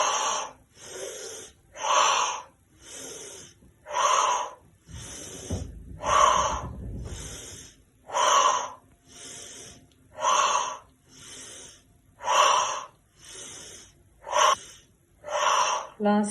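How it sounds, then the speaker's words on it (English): A group of women does a synchronized breathing exercise at a year-end program, producing a steady rhythmic series of loud, sharp breaths, roughly one per second, with a brief low rumble partway through. "Let's do another set of synchronized breathing."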